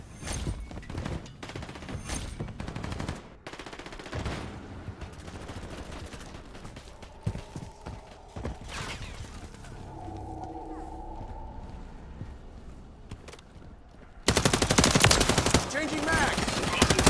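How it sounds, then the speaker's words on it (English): Rapid automatic gunfire from a Call of Duty Modern Warfare 3 team deathmatch crackles in dense bursts, thins out in the middle, then returns loud and sustained near the end. "I'm taking fire!"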